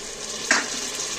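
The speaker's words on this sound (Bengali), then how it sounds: "সামান্য একটু জল দিচ্ছি" A splash of water hits a pan of frying spiced jackfruit curry, giving one short, close hiss and sizzle over a soft background of cooking.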